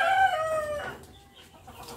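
Australorp hens and roosters clucking and crowing up close, a loud harmonic crow in the first second giving way to softer scattered clucks from the flock.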